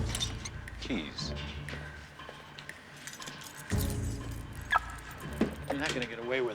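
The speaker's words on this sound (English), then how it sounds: "Keys." Keys jangle in short metallic bursts amid door handling, car sounds and rustling, with people talking over the clinks.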